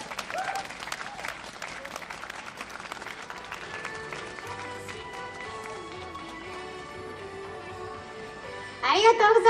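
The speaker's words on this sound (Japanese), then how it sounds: "もう一度大きな拍手をお願いいたします" A live-show audience applauds after a band's performance, dense clapping at the start that thins into a softer spread under a speaking voice and music-like tones, before a sharp burst of sound near the end.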